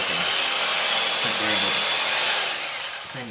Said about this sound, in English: I like to use this electric knife. It's fast, easy.